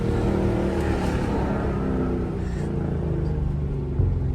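A Chrysler 300 with a 5.7L V8 fitted with BBK headers, its engine rumbling loud and deep as it revs, a continuous close roar with a slight surge near the end.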